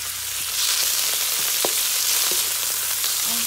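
Sliced shrimp frying in a pan with browned garlic and onions, a dense steady sizzle that swells after the first half second, with a few light stirring knocks.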